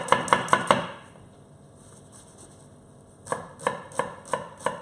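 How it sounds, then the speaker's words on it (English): A knife chops red onion on a board while a quick fish stew is prepared, with rapid rhythmic bursts of close knocks at the start and end and a quieter pause between. "The smaller you chop this, the quicker it will cook."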